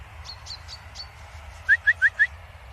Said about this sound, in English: I think it is a robin, actually.